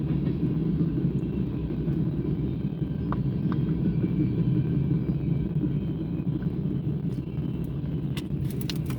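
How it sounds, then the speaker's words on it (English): A passing train rumbles steadily in the background, a sustained low roar that stays fairly even throughout with a few faint clicks and no speech. "Oh, there goes the train."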